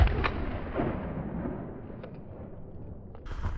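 Shotgun fire during a chukar hunt in Hells Canyon: a sharp blast opens, and another shot follows soon after. The reports are loud and booming, and their echo trails across open rugged terrain.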